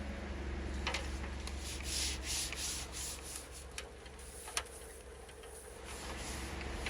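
A buffer polisher runs at low speed with a steady motor hum and a continuous rubbing, sanding-like swish, joined by occasional light ticks.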